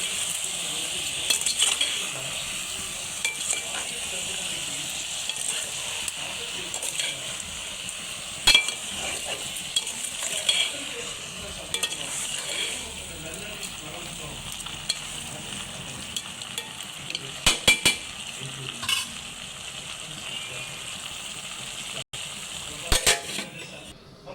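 Chicken curry with ginger garlic paste being stirred in a pan, a steady low sizzle under soft scraping strokes with a few sharper clicks of the spoon against the pan, no voices.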